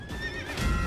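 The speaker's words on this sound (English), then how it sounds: "When there's a freaking horse right there!" A horse in a video game neighs loudly and close for under a second, a bright whinny with rising and falling pitch over a low rumble, no talk.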